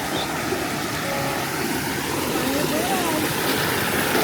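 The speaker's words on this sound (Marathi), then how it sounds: "पर्यात ना बघ पाणी खलखल होतं काय" A village stream in Konhavali in the Kokan region, swollen by monsoon rain, gurgles and rushes in a continuous close wash of water while someone speaks briefly over it.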